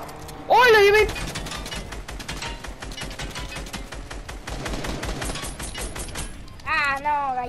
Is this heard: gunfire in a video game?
yes